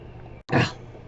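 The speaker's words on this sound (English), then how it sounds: "Allergies started catching up with me there. Started coughing and sneezing." A single short, abrupt sneeze from someone suffering allergies, a quick burst following a brief silence, fairly close and moderately loud.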